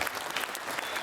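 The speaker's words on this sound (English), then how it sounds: "please give yourselves and everyone here at the Tunbridge a big round of applause" An audience at the 2022 Tunbridge World's Fair bursts into a brief, full round of applause for a high-energy stage show, a dense wash of clapping.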